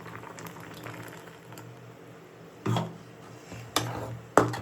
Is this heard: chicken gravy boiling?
yes